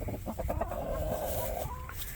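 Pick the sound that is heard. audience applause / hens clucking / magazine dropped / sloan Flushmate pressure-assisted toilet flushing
hens clucking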